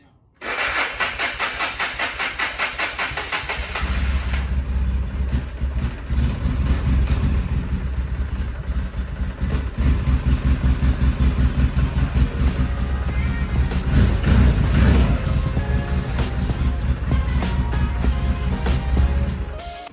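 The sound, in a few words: car engine idling after start-up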